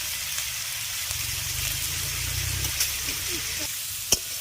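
Steady low sizzling of potatoes and onions with turmeric, chili powder and salt frying in a covered pan, fairly faint, with a couple of brief clinks near the end.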